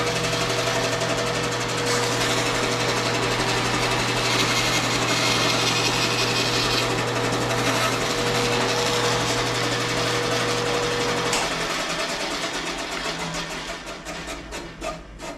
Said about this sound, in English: Nice little square block cut on the bandsaw.